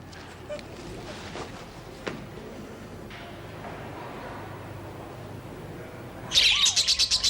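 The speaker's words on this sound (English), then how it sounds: "Can't you shut those bloody parrots up? They are budgerigars." After a stretch of quiet room noise, budgerigars burst into rapid, high-pitched chirping and twittering at the very end.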